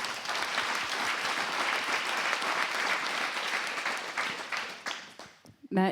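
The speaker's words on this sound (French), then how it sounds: "On peut applaudir Olivier" An audience applauds Olivier at a corporate testimonial event, brisk steady clapping that fades out near the end before a voice begins speaking.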